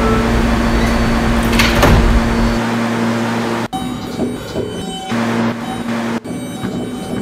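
Doors on a Brooklyn-bound M local subway train in New York shut. Loud running noise drops away, then come two heavy thuds a few seconds apart, with no speech.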